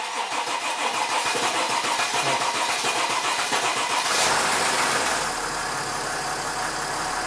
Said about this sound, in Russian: смотрите, как заводится, он долго будет